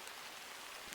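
Rain falling as a steady, even hiss of dense drops, soft and continuous with no other sounds.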